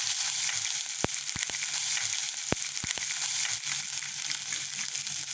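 Ginger garlic paste sizzles continuously in hot oil while being stirred for a Sri Lankan chicken curry, with several crisp taps and scrapes of a spoon on the pan over the even frying hiss.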